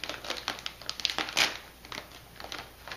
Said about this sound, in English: The next step is to tear open the bag.